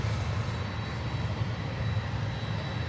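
Air Canada Airbus A321 airliner at Miami airport, a steady, loud jet engine roar heard from a moderate distance with no talk.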